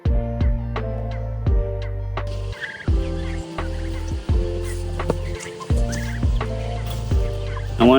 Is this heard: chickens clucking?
yes